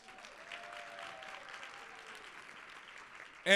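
Moderate applause from an indoor audience at an awards dinner, continuous and fairly even, with a faint whistle early on before a sudden loud noise at the end.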